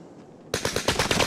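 A burst of heavy automatic gunfire erupts in a video game after a moment of near silence, with rapid close loud shots rattling in quick succession and no voices.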